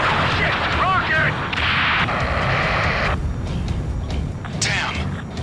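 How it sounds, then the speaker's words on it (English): Rocket explosions and heavy blasts rumble through an Ace Combat 7 aerial battle, with dense broadband bursts and sharp cracks layered over steady loud combat noise while voices talk over the action. "Rocket!"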